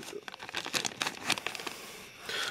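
A thin plastic bag crinkles and rustles while an AliExpress phone case is unboxed, with a quick run of close, sharp crackles that pause briefly and pick up again at the end.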